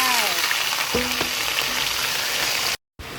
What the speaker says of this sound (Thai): ใส่กระเทียมสับลงไป ผัดให้หอม เร่งไฟแรง ใส่กระลำลงไป